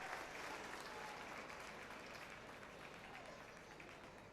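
Applause from the crowd at a Serie A1 volleyball match, Bassano against Firenze, as a dazed player leaves the court. Steady, dense clapping fills the whole stretch at a moderate distance, easing slightly toward the end.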